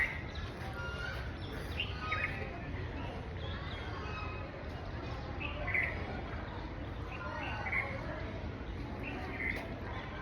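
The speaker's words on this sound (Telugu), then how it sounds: "ఎప్పుడూ పక్షుల కిలకిల రావాలు ఉంటూనే ఉంటాయన్నమాట" Birds chirp and twitter from an almond tree on the grounds of a retirement home in Balapur, Hyderabad, with scattered short calls rising over a steady, noisy outdoor background.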